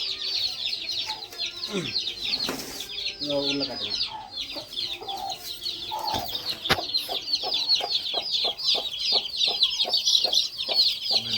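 Newly hatched chicks and chickens cluck and chirp steadily throughout, with a brief spoken remark partway through.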